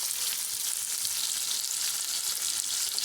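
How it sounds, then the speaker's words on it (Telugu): Onions, green chilies and fennel seeds fry in hot oil, giving a steady, close, bright sizzle with no voices. "ఆనియన్ గోల్డ్ కలర్ వచ్చేవరకు ఫ్రై చేసుకుందాము."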